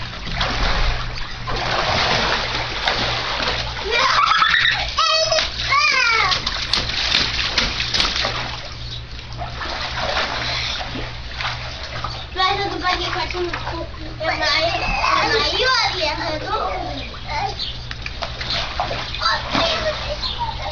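Children splash and dive in a shallow backyard swimming pool, with steady splashing and sloshing water up close throughout, while kids and adults talk and call out over it.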